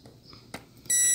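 A multimeter's continuity beep sounds while testing a capacitor on a Philips 40PFG4109/78 TV board. After faint handling and a light click, a steady electronic tone starts abruptly near the end and holds.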